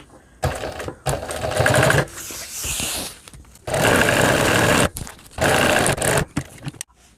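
Sewing machine stitching a size 8 zipper chain onto fabric for a small child's school bag, running in several loud, steady bursts of rapid stitching separated by short pauses, up close with no voices.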